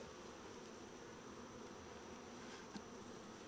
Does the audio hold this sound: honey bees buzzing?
yes